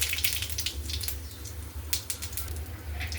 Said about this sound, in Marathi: जिरे तडतडले